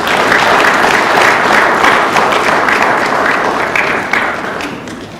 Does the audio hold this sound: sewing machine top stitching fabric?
no